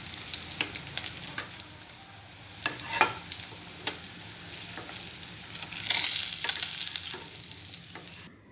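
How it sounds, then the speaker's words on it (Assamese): Bhokua fish frying in hot oil for an Assamese fish curry, a steady sizzle with scattered pops and occasional stirring scrapes, swelling louder near the end. "মাছখিনি ফ্ৰাই কৰা হৈ গ'ল"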